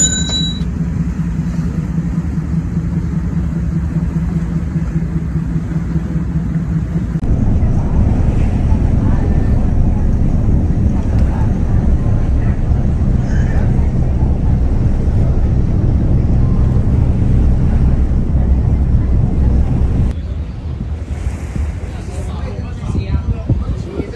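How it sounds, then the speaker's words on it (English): Aboard the Star Ferry crossing Hong Kong harbour, a steady low engine drone and water wash blend with wind buffeting the microphone, growing louder partway through and easing near the end. "When in Hong Kong, you must ride the Star Ferry."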